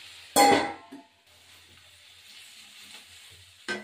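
Spring onion stalks and cauliflower fry in oil in a pan, with a quiet continuous sizzle, a brief louder clatter of stirring near the start and another short clink at the end.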